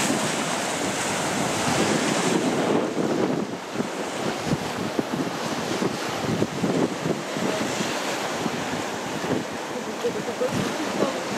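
Stormy sea surf crashing onto black rocks at Xlendi Bay on Gozo, Malta, a continuous loud roar of breaking waves with heavy wind buffeting the microphone throughout.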